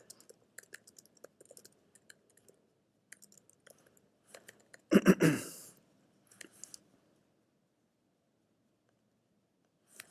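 Scattered light computer keyboard clicks and taps at an uneven pace, quiet and close, with a brief louder rustle in the middle.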